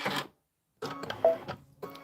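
Kimberbell embroidery machine stitching down one side of a bunny bench pillow border: a short mechanical burst, a half-second pause, then a busy rattling run of needle strokes with small clicks, close and fairly quiet.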